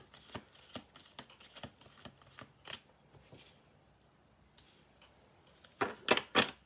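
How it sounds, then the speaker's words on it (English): Playing cards are shuffled in a series of crisp, rapid riffling bursts, some quieter and spaced, ending with a louder quick flurry, close up. "We're going to do 2 more shuffles."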